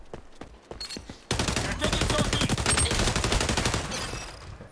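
Dense rapid gunfire rattles loudly and continuously in an XDefiant match, including a one-hit-kill shotgun, following a few quieter scattered shots at the start.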